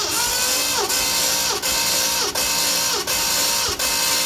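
A 1978 Ford F150 engine cranks slowly on the starter during a compression test, a loud steady whirring drone with a regular dip in pitch and level about every 0.7 seconds, no voices.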